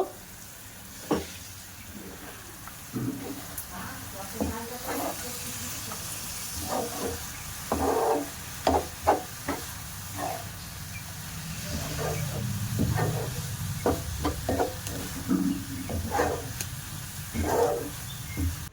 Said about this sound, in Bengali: একটা ঢাকনা চাপা দিয়ে দিলাম, দিয়ে ভালো করে সিদ্ধ করে নেব।